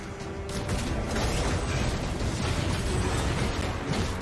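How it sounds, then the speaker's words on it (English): A turret destroyed in the mobile game Mobile Legends, heard as a dense, loud, rumbling explosion that sustains for several seconds after a short build-up. "Our turret has been destroyed."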